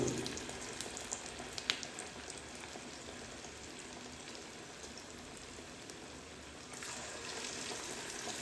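Corn and jaggery boorelu, sweet fritters, fry in hot oil on a stove, giving a steady soft hiss and bubbling sizzle with a faint clink, fairly quiet and without voices.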